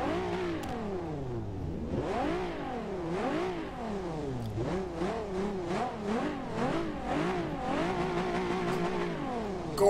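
A car engine revs repeatedly in a video game (Forza Horizon 2, Ram Runner build), pitch climbing and falling in sweeping bursts, loud and close, with a few sharp backfire pops near the end.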